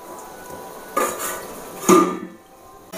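A metal lid clanks onto a pot of simmering potato and pumpkin curry, with a few distinct knocks and rattles close by over a quiet background.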